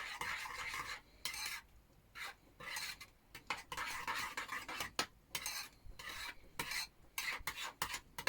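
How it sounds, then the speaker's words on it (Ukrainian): Stirring a mixture in a bowl for a liver cake, a spoon scraping and clinking against the bowl in quick, uneven bursts with short pauses, close and alone without talk. "я вже це все перемішую гарненько"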